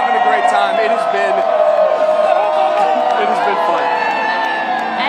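A street crowd at the Carolina Hurricanes Stanley Cup championship parade cheers and whoops continuously, while a reporter talks over the noise nearby.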